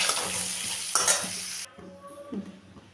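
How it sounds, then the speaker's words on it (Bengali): Kohlrabi with salt and turmeric frying in a pan: a loud bright sizzle for the first half with stirring scrapes, then it drops to quieter clinks and scraping of a spatula against the pan. "একটু ভেজে নেব"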